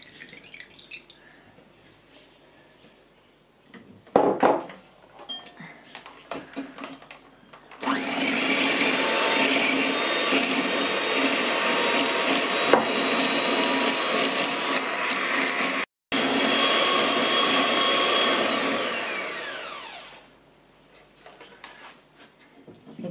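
An electric hand mixer whips 150 ml of cream for banana ice cream, starting after some clattering and then running as a loud, steady whir for about twelve seconds with one short break before winding down.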